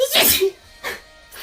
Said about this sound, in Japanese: くしゃみしたー。